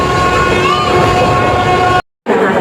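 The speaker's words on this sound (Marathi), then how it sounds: "गाडी थोडीशी स्लो डाऊन झाली आहे," An express train slows on its approach to Kurduwadi station, with loud rumbling wheels and a sustained, wavering mechanical whine, briefly cut to silence before the noise resumes.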